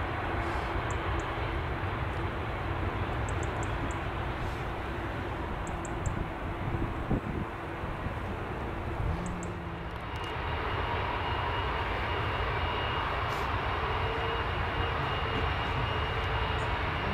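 Maleth-Aero Airbus A330-200 jet engines roaring steadily as the airliner departs Manchester Airport, a loud, continuous broadband rumble with wind buffeting throughout and no speech.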